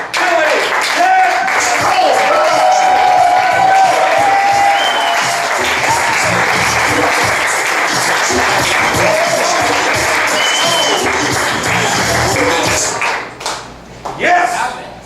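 A talk-show studio audience applauds and cheers loudly to welcome a guest, a sustained wall of clapping and whoops lasting about twelve seconds before it tapers off and voices begin talking.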